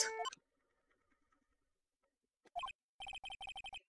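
A phone rings in repeated bursts, first a short ring then a rapid string of evenly spaced electronic trills near the end, fairly quiet with silence before it.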